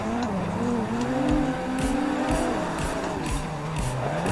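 A Nissan 180SX drifting in Assetto Corsa, its engine note wavering up and down with throttle and repeated bursts of tire squeal, loud and close.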